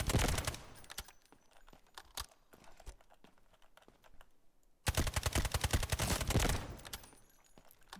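Gunfire at a firing range in the video game Delta Force, with purple armor and gray ammo, comes as two rapid automatic bursts separated by quieter scattered shots, sharp and close with no talk.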